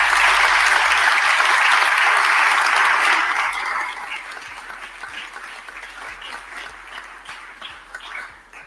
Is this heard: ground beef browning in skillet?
no